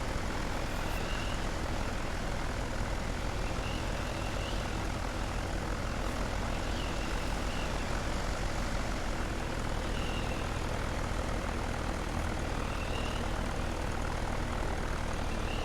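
A propeller airplane taxis on the ground at Van Nuys, giving a steady, loud engine drone with a constant broadband roar that holds for the whole stretch without any speech.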